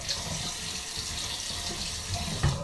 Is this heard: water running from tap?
yes